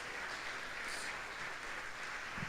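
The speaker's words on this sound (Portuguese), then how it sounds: "Você pode aplaudir Deus por isso?" A church congregation breaks into applause, a quiet, steady wash of many hands clapping at a distance, holding evenly for a couple of seconds with no voices over it.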